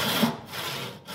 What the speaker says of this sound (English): As you're cutting, you want to try to move the saw in an oscillating motion like this.